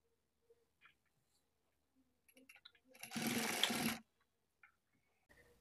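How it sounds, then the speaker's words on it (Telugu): A sewing machine stitches the side seam of a boat-neck blouse in one short, steady burst of about a second, close by, with a few soft clicks and taps before and after and no talking. "ఇప్పుడు ఇక్కడి నుంచి స్టార్ట్ చేసుకొని సైడ్ జాయింట్ ని స్టిచ్ చేసుకోవాలి"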